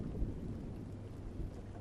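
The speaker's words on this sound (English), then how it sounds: "A muffled bolt of thunder in the distance cracked the sky." Muffled thunder rolls in the distance as a low, steady rumble beneath a soft drizzle, very faint and continuous, with no voices.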